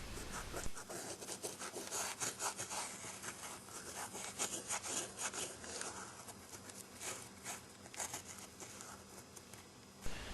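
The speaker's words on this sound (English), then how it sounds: "I'm using a bit of sanding dust to rub into the cracks" Close, soft scratchy rubbing of fine sanding dust being worked into cracks around a wood inlay on a dovetailed wooden box, a steady quiet brushing texture with no voices.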